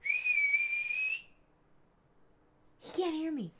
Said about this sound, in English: I have to whistle because he has his headphones on.